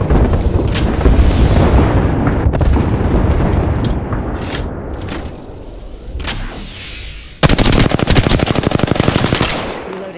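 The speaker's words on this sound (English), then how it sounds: "Got an airstrike coming in." In the Apex Legends video game, an airstrike lands amid gunfire: loud, close bursts of rapid automatic shots and heavy booms, ending in a fast, sharp machine-gun volley.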